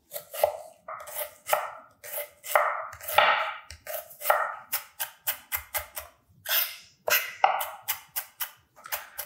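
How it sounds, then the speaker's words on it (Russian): A knife finely chops red onion on a board in quick, irregular bursts of close, crisp taps, pausing briefly between runs. "Для начала мелко порежем красный лук."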